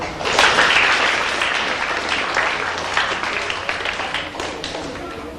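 Singapore students in a classroom clap for themselves, a dense, steady patter of many hands lasting several seconds and thinning slightly toward the end.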